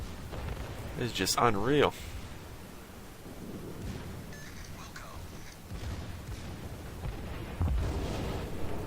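Secondary guns on a Yamato battleship in World of Warships boom in repeated dull, rumbling blasts amid game noise, with someone talking excitedly over them.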